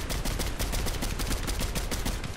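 Rapid automatic gunfire in the Fortnite video game, a dense run of loud evenly spaced shots rattling close for the whole stretch with no talk over it.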